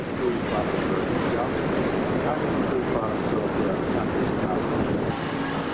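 Strong wind buffeting the microphone during a boat ride near New Orleans, a constant loud low roar with boat and water noise mixed in, steady throughout.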